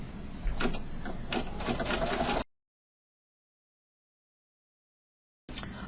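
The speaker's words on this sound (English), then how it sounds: "step number 5 is the satin stitch around the earpieces that we just put on" An embroidery machine sews satin stitch around bookmark earpieces, a rapid mechanical chatter that runs for a couple of seconds, stops abruptly into silence, then resumes briefly.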